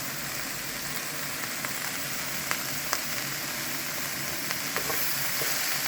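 Zucchini and eggplant sizzle steadily in a hot pan while spices are stirred through them, a dense continuous frying hiss broken by occasional light scrapes of the utensil, close and even.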